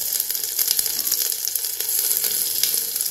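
Cumin, ginger and garlic sizzle loudly in hot oil as the base for a chicken leg-piece dish, a bright, dense hiss with rapid crackling pops, close and continuous throughout.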